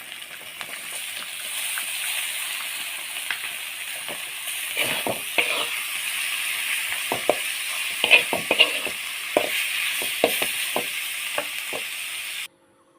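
Boiled bamboo shoots are stir-fried with shrimp in a pan, a soft steady sizzle overlaid with repeated scraping and clacking of a spatula against the pan, growing busier in the second half.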